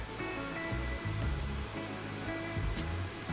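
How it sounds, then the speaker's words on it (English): Burney Falls, a waterfall in Northern California, roars as a steady, full rush of falling water heard from a trail bend close by, loud and continuous with no voices. "That last bend is the closest you'll get to the waterfall, and then you can continue down to get a direct view from the base."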